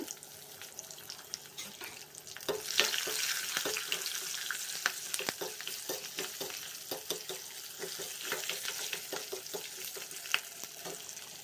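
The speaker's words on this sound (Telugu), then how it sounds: "ఈ రెండు కొద్దిగా వేగిన తర్వాత ఒకదాని తర్వాత ఒకటి నేను వీడియోలో చూపిస్తున్న విధంగా వేసి పోపు వేసేసుకోవాలి" Crushed black pepper and cumin sizzle and crackle in hot oil in a pan for tempering, a steady frying hiss with scattered sharp pops and stirring scrapes.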